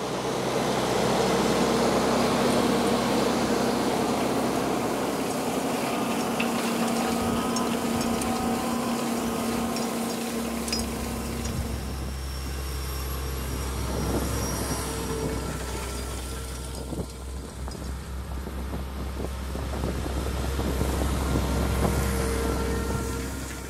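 A tractor pulls a two-beam tined subsoiler through the ground, with a loud, steady engine drone and rumbling soil disturbance that shifts in pitch midway as the run continues.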